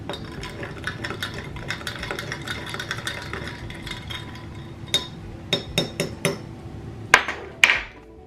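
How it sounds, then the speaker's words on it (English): A metal spoon stirs sugar into coffee in a glass, giving a steady soft rattle that ends in several distinct, bright clinks against the glass, heard alone and close. "add about a tablespoon of sugar. And then I stir it up."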